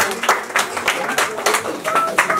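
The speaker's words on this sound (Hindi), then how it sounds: "तो तालियां तो बजती है ना।" Audience clapping at a Christmas and New Year gathering, a moderate burst of uneven hand claps, close, mixed with a voice talking over it.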